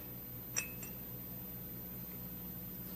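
A glass coffee cup gives one short, bright clink with a faint follow-up tap, quiet over a steady low room hum.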